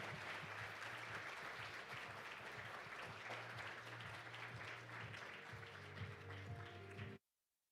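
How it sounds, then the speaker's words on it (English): A large conference hall audience welcomes the Chief Justice of Korea's Supreme Court with sustained applause, a broad even roar of many hands under a low steady hum, cutting off abruptly at the end. "Let us give him a warm round of applause."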